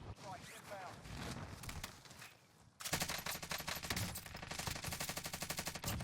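Krig rifle fire in a video game during a recoil test: bursts of rapid automatic shots, rising to a louder, tightly spaced stream in the second half, with a voice talking over it.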